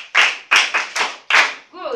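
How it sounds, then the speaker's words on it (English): A small group of schoolchildren in a classroom claps in a few quick, separate bursts, about five short rounds of claps spaced under half a second apart, close and fairly loud, with a brief voice at the end. "Clap for her."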